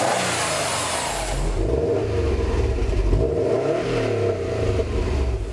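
A 2015 Subaru WRX STI with a 2.5-liter turbocharged four-cylinder pulls hard, its engine note rising and falling through repeated revving surges, loud and close, with a brief hiss at the start.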